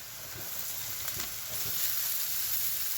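Soaked poha fries in a pan with turmeric, for onion poha, giving a steady close sizzle with faint stirring scrapes and no voices.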